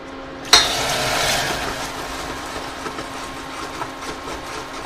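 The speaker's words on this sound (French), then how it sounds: "j'ai fait chauffer de l'eau, elle est bouillante et je vais maintenant la verser en plusieurs fois" Boiling water poured into hot caramel while making oeufs à la neige, a sharp hiss that flares loud at the first splash, then settles into a softer steady sizzle with faint clinks, and no talk.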